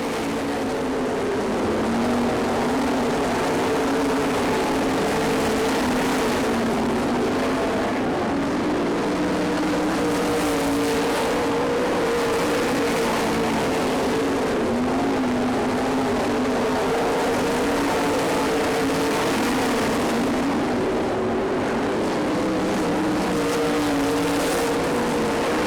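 Race cars on a dirt track roar through the closing laps of a feature race, a steady multi-engine drone with no single car standing out, loud and continuous throughout.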